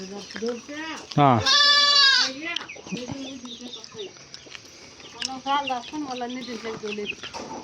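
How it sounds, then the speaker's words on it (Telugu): A loud, drawn-out sheep bleat rings out close by, followed by softer bleats while people talk nearby, at a sheep farm. "వీళ్ళ గొర్రెలు"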